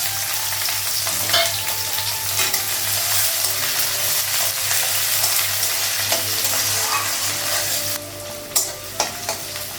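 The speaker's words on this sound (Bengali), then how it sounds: "লবণ লাগাবো, তাড়াতাড়ি পেঁয়াজটা ভাজা হবে।" Onions sizzle and fry steadily in oil with cardamom pods and green and dried chillies, a constant close crackle with occasional stirring scrapes and a louder clatter near the end; no talking.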